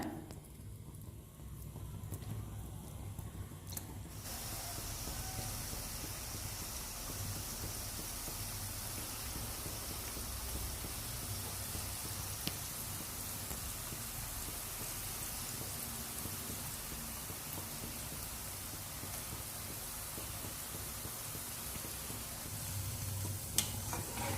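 Semolina pakoda batter dropped into hot oil for deep frying, a dense steady hiss of bubbling that starts abruptly and stays even, moderately quiet and close, with no voices.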